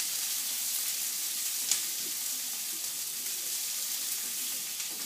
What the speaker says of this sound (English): Then you give your peppers and onions another little stir.